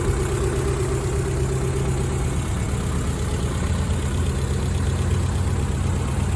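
A 2000 Subaru Impreza 2.5RS engine idling after a manual swap and head gasket job, a continuous rough, rumbling idle with a slight change in tone partway, heard close and alone.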